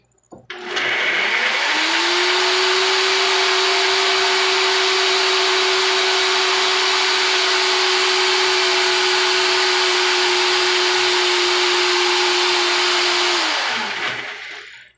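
A small Vitamix blender running without its plunger, spinning up sharply and holding a loud, steady high-pitched whine for about twelve seconds before winding down; no voices over it.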